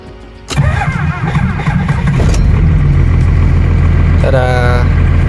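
A 1995 Dodge Ram 2500 on its first start attempt cranks, fires loudly and settles into a steady heavy idle close by, with a brief voice-like sound near the end.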